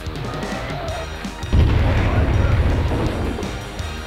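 Crates packed with fireworks blowing up in the video game Taz Wanted, a loud burst of crackling explosions erupting midway and rumbling on steadily to the end.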